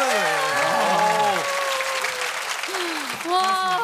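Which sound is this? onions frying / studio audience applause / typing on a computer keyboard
studio audience applause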